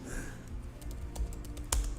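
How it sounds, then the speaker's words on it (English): Fingers type on a computer keyboard, producing a run of soft, fairly even key taps with one sharper clack near the end, over a steady background hum. "actually typing that out yourself"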